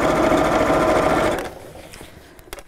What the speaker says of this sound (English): literally just sewing down the sides here